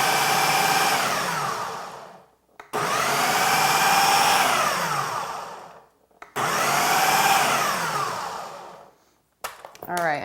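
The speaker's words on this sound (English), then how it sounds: "we're going to put the lid on and we're gonna pulse this" A food processor pulses cubed butternut squash into rice-sized granules in three long loud bursts of whirring motor noise, each a couple of seconds, separated by brief pauses, with a short clatter at the end.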